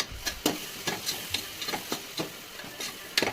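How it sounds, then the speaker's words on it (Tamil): Chopped tomatoes stirred in a pan, a series of about a dozen sharp spoon scrapes and taps in an uneven rhythm over a faint simmer, fairly quiet and close. "கட் பண்ணி வச்சுருந்த தக்காளி அதில் போட்டு நல்லா சாஃப்டாக வேகிற வரைக்கும் நல்லா கிளறி விட்டுக்கோங்க"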